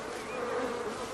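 Angry, aggressive bees buzz in a dense, steady drone that sounds close and fairly loud, with no voices over it.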